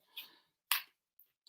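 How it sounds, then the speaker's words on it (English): A deck of tarot cards riffled and shuffled by hand in a few short, crisp bursts with quiet gaps between them, close up and fairly soft. "So just giving them a good shuffle."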